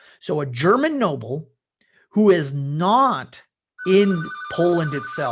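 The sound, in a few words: telephone ringing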